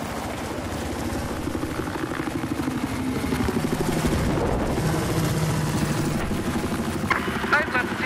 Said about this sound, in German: Ja, ich habe einen feindlichen Heli gesichtet.